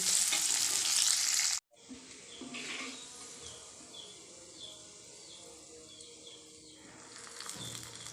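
A burst of loud hot-oil sizzle from onions frying with panch phoron for a red lentil and carrot dal, cutting off sharply, then a quieter steady crackle of frying with stirring.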